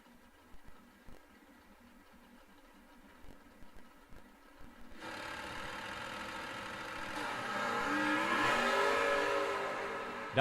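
A drag racing car at a Verge Quick Outlaw Series event in Bowling Green idles with short blips while staging, then launches into a rising, sustained roar off the line, heard from a distance.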